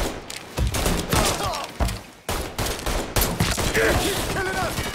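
Rapid gunfire from the video game Mafia III, loud sustained bursts of shots and thumps filling the whole stretch, with brief dips between volleys and a voice talking underneath.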